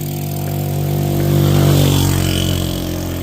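A motorcycle engine runs close by, its steady drone swelling briefly as it revs, then settling back to a rumbling idle.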